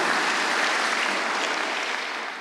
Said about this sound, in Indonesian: Tepuk tangan dulu bagi Tuhan.